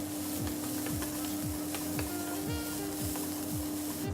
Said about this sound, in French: Je fais revenir un petit peu les oignons ciselés. Je mets les carottes, à peu près 2-3 minutes, les artichauts.